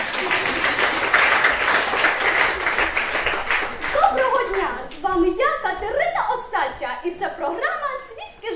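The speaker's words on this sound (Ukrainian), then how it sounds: "Вітайте оплесками." Audience applause welcoming a television star guest at a music school graduation, dense steady clapping for about four seconds that thins into scattered claps with a voice and speech-like chatter over the end.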